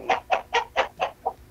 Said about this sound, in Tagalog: 4 lang yung manok ko diyan